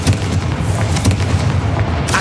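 Confringo fire spells go off in Hogwarts Legacy as loud, dense, booming blasts, with several heavy explosive bursts rolling over one another in quick succession and no talk.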